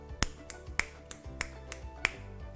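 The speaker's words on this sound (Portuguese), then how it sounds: "E além das palmas, tem os estalos de dedos." Finger snaps in a body percussion music lesson: a steady run of about eight crisp, dry snaps, close and fairly loud over a soft background hum, with no talking.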